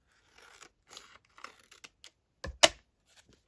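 Scissors snip through a laminated plastic envelope along its bottom edge, with scattered soft crinkles and handling noises, then one sharp loud crunching cut near the end, close and otherwise quiet.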